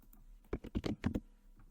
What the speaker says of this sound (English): So I'm going to start by typing